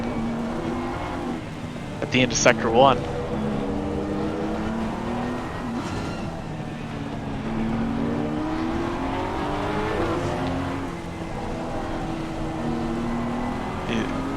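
A BMW and a Porsche race around the Paul Ricard circuit in an online racing-league event, their engines droning and revving steadily under continuous race commentary.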